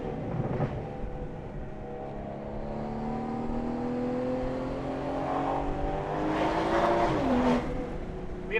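Exhaust of a BMW F30 340i fitted with a Valvetronic Designs axleback, free-flow downpipes and midpipe, rising in a long smooth rev with climbing tones and a brief throttle blip near the end.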